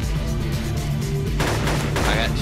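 Gunfire in the military shooter ARMA 2 Project Reality rings out as loud repeated shots with rumbling booms and a quick burst toward the end, dense and close, with no talk over it.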